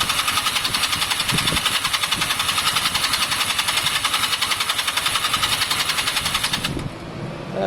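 A Honda CB250 motorcycle engine cranks over steadily on the starter during a compression test at wide open throttle, a close, rhythmic whirring chug that stops abruptly near the end.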